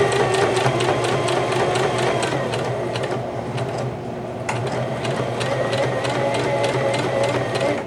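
A Singer Heavy Duty 5554 sewing machine stitches through thick fabric at a 3.0 stitch length, giving a steady, close, loud mechanical whir with a rapid rhythmic needle clatter that runs without a break.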